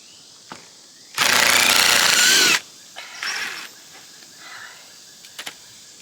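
A power drill loosens screws on a chicken coop, one loud whirring burst of about a second and a half, followed by a shorter quieter whir and a few small clicks and taps nearby.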